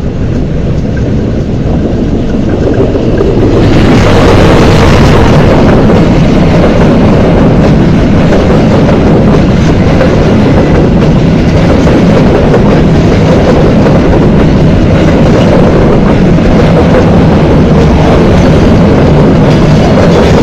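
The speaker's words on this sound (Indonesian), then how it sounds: "Ini dia kereta api berantas dari stasiun Blitar dengan tujuan akhir stasiun Pasar Senen." The Matarmaja KA 282 passenger train runs on its rails, heard from on board as a loud, continuous heavy rumble with steady rail clatter and buffeting wind noise. No one speaks over it.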